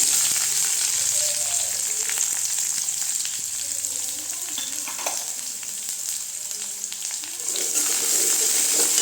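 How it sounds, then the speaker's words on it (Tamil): Onions, dried chillies and curry leaves sizzle steadily in hot tempering oil for curd rice, a dense continuous crackle with occasional stirring clinks, close and loud throughout with no talking. "வெங்காயம் நல்லா வதந்துட்டு கொஞ்சம் வெங்காயம் இந்த அளவுக்கு வதங்கினா போதுங்க"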